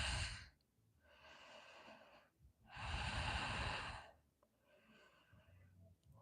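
Slow, deep breaths held in downward facing dog during an Ashtanga vinyasa yoga flow: two long, loud airy exhalations and inhalations, then a softer third breath, close and steady with no talk.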